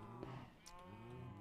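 Minecraft cows mooing in a video game, a drawn-out bovine low that carries steadily through the whole moment with a second call layered on top, close and clear with no talking.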